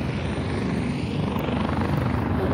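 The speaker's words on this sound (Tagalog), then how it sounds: "Bakit may helicopter doon?" A helicopter flying over a seaside area, heard as a steady, continuous rotor and engine drone that holds even in loudness for the whole stretch, with no talking.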